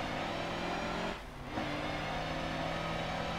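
In Forza Motorsport 7, a vehicle's engine drones steadily and loudly, dips briefly at a gear change, then holds a constant roar as it accelerates on a racetrack.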